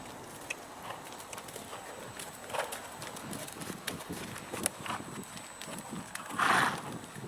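Horse hooves clip-clop at a walk during a training session, soft irregular footfalls over steady background noise, with a louder scuff near the end.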